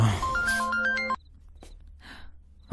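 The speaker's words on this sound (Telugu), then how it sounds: "ఫోన్ వచ్చింది బేబీ, ఫోన్." A short melodic phone ringtone plays for about a second, then cuts off, leaving faint clicks and rustles.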